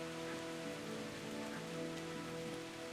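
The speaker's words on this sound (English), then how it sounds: "Why does it have to rain?" Rain falls in the medieval role-playing video game Kingdom Come: Deliverance, a steady, even hiss of rain on surfaces through a town, with a faint low tonal drone beneath and no speech.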